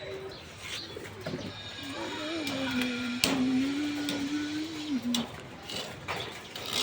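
Pigeons coo in a long, wavering drawn-out call that rises and falls for several seconds, set against a busy outdoor background with scattered clicks and faint distant voices.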